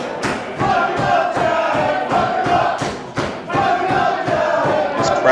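A wrestling crowd at a hardcore match cheers and chants for Jack Toreno, a loud rhythmic roar with repeated thumps like stomping or clapping in a steady beat, heard close.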